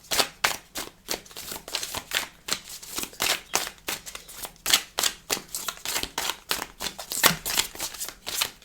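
Tarot cards being shuffled for a reading, a rapid run of crisp riffling bursts in a steady rhythm, close and clear with no talk.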